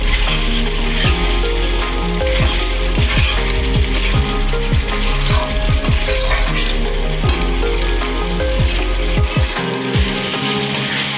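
Spice masala frying in a pan while being stirred again and again, a loud continuous sizzle under a run of rapid spatula scrapes and knocks against the pan, close-up, with no talk.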